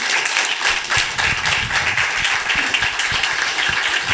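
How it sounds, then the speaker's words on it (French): Audience at a cultural institute talk in Vannes, Brittany applauding the speakers, a dense, steady patter of many hands clapping at close range with no voices over it. "je vous propose d'applaudir nos conférenciers pour les remercier"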